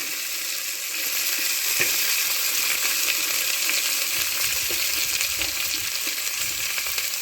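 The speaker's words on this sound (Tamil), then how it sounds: "இது நல்லா வதக்கிக்கிங்க" Onions sautéing with curry leaves in a pan for quail gravy, a steady close sizzle and crackle with occasional stirring scrapes, no voices.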